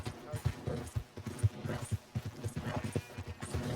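Horse hooves clip-clop in a steady rhythm in the Red Dead Redemption 2 video game, moderately close, mixed with low game ambience and a voice talking over it.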